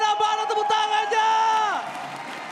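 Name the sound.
esports arena crowd cheering and applauding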